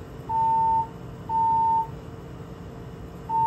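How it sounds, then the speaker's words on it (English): Steady electronic beeps from a fire alarm test sound at a regular pace, each lasting about half a second with short gaps, loud and alone over a low room hum. "That's the fire alarm."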